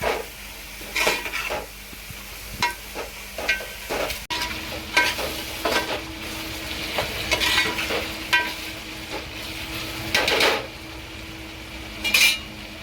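Onions frying and being stirred in a pan for a restaurant-style gravy, with a steady sizzle under repeated scraping and clinking of a spatula against the pot, close and fairly soft, no voices.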